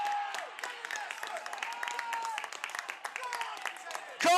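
Crowd at a Loughborough University versus Coventry Sphinx football match applauding and cheering a goal, a dense continuous wash of clapping and voices with whistles and shouts, swelling loudly at the end.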